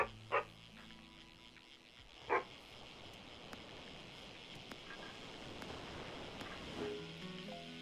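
A small dog lets out two short, sharp barks a couple of seconds apart, over a quiet outdoor background with faint wind.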